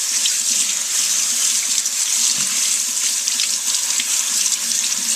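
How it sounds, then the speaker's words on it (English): Salad greens being rinsed under a running kitchen tap, a steady, loud hiss of water pouring into a sink that continues without a break for the full duration. "just give them a really good rinse, making sure the water is running clear"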